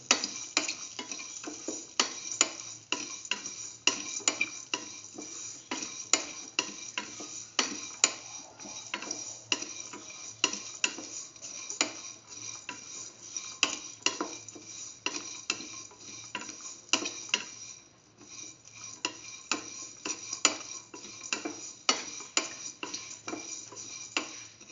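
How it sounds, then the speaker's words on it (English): A sesame fenugreek soy chunk filling is sautéed in a pan with a spoon, giving a steady rhythm of scraping and tapping strokes over a soft, constant sizzle, close by and with no talking. "keep on sauteing."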